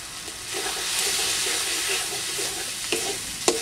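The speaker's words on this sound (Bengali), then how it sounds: "সামান্য জল দিয়ে মশলাটা কষিয়ে নেব" A spice masala of chili, cumin and turmeric powders with salt, fried ginger and garlic, and a splash of water sizzles in a pan, with steady frying and a couple of sharp stirring clinks near the end.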